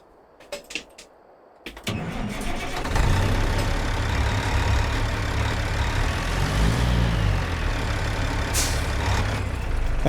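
Truck engine starting in American Truck Simulator, with a few clicks and clunks, then the starter cranks and the engine catches into a steady loud low idle rumble, a brief hiss of air near the end.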